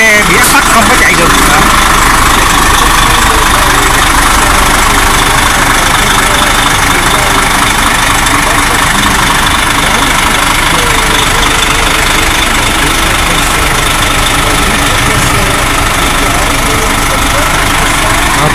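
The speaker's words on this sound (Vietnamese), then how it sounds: "Tiếng máy khởi động đó các bạn." A Trung Nga bus in Phan Thiet, started after sitting idle during lockdown, idles with a steady continuous engine rumble and rattle, fairly loud and close throughout, with no clear break.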